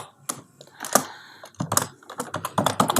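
Keystrokes on a computer keyboard while entering a character into a C program, a quick irregular run of sharp clicks, close and fairly loud, with no talk over them.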